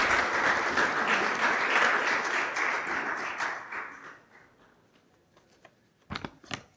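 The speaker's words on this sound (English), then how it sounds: "Let us welcome him with a hand clap." Audience at a university innovation week and industry summit clapping to welcome a speaker, steady full applause that fades out over several seconds, followed by a few scattered louder claps near the end.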